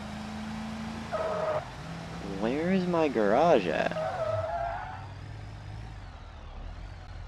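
A truck engine drives in the video game BeamNG.drive, its low, steady drone running throughout at moderate level while someone talks over it and a brief skid or squeal rises in the middle.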